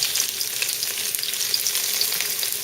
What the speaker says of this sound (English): So this is getting hot over here. I'm just going to go ahead and start putting in my cauliflower.